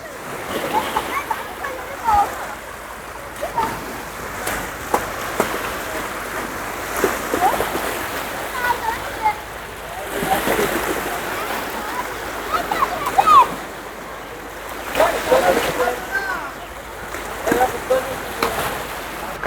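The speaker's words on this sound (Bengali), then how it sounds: "দেখেন পদ্মার কি ঢেউ।" Waves on the Padma river slosh and splash in irregular surges near a riverside market while boys play in the water, with people talking throughout over the watery wash.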